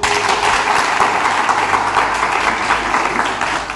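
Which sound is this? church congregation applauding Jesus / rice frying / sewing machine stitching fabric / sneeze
church congregation applauding Jesus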